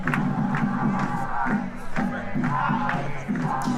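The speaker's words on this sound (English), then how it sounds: "you can hear the singing, the clapping, the drumming behind me here at Hostage Square" A crowd at Hostage Square in Tel Aviv sings and claps to a steady drumbeat, a rhythmic, lively mass of voices and regular beats with a reporter talking over it.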